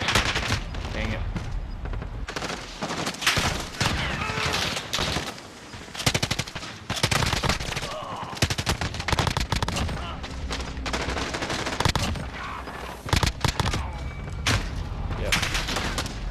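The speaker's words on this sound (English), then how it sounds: "Hardly any recoil on the PKM." PKM machine gun in the Warzone video game firing in repeated loud bursts across the whole stretch, sharp dense rattles with brief gaps, while a voice talks intermittently over the gunfire.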